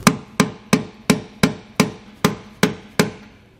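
Nine evenly spaced hammer blows drive a part into a Dexter heavy-duty tandem-axle trailer suspension, each strike sharp and ringing with a short metallic decay, close by and with no talking.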